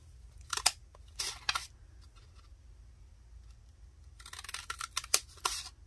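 Herb scissors cutting through paper, several crisp crunching snips in short bursts, a pause, then another run of rapid cuts, close and without speech.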